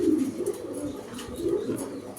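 A male pigeon coos in two low, throaty rolling phrases, close by and fairly steady, with no talking.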